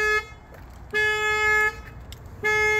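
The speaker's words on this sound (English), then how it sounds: "that honking's gonna drive me crazy" A car horn honking outdoors: two clear, loud toots and the tail of a third, each held under a second, separated by short quiet gaps.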